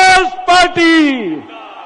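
A crowd at a Congress party rally in Polaykalan chants a political slogan in loud, shouted unison, three bursts of massed voices, the last drawn out and fading.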